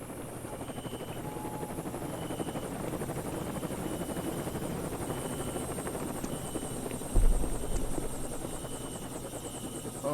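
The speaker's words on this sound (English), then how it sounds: "We're in the helicopter." Steady helicopter rotor drone in a video game, continuous and moderately loud throughout, with a slight swell of low thump near the end and no talk.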